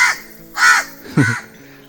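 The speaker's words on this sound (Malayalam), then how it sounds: "രാവിലെ തന്നെ ഇവിടെ കാക്ക ഭയങ്കര കരച്ചിലാണ്" Crows cawing outdoors in the morning, three loud harsh caws spaced roughly half a second apart, close by, with no talking.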